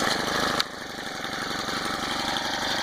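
Honda GX25 four-stroke engine on a motorized bike, steady close idle with an even, buzzing mechanical drone and a brief click near the start, no talking.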